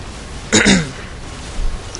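A single short throat clearing, close and fairly loud, in an otherwise quiet room with faint background noise.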